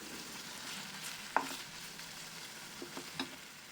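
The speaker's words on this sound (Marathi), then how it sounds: "हे खोबरे सुद्धा तेलामध्ये परतून घ्या." Dried coconut being fried in oil in a pan for a khichdi, giving a soft, faint sizzle with a couple of light taps of a spoon.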